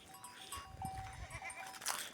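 Goats on a farm field bleating in short calls, a couple of cries rising over rustling outdoor background, fairly close and moderately loud.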